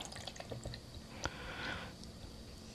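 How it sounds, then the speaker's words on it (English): Mullein tincture is strained through cheesecloth, with a few soft drips at first and then a brief trickling pour of liquid. The sound is close, quiet and intermittent, with no voices. "And you're going to pour it through the cheesecloth"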